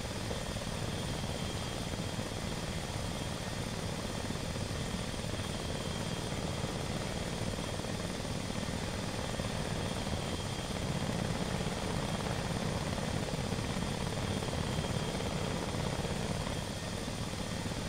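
Helicopter flying and landing in the video game ARMA 2, a constant rotor thrum and turbine whine that stays steady and fairly even throughout, with no talk over it.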